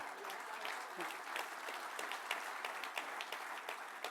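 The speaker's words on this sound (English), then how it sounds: "So that did demand a round of applause, by the way." Audience members at the Canada Builds Modular Summit, a conference on modular building, applaud in a continuous round of many hands, heard somewhat faint and distant, with a few voices mixed in.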